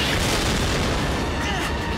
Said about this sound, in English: I'm picking up multiple explosions.